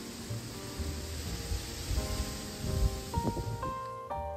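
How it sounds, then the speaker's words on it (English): Strong wind rushes outdoors as a broad, steady roar close to the microphone, buffeting it with gusts throughout, with faint tonal sounds surfacing near the end. "I've just left the sound on here so that you can hear the wind."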